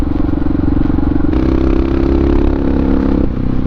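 A Honda XR650R single-cylinder in supermoto trim running loud and close, its engine droning steadily with a rise in pitch and rattling clatter partway through as the rider moves.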